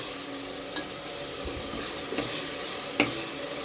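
Ginger garlic paste with salt roasting in a pan for home-made biryani gives a quiet, steady sizzle, broken by a few sharp clicks of a spoon stirring.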